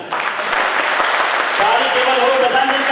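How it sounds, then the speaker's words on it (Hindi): An audience claps at a Bharatiya Veer Dal foundation day gathering, a dense burst of applause that carries on steadily while a speaker's voice comes in over it partway through. "लाइन अच्छी लगी तो ताली"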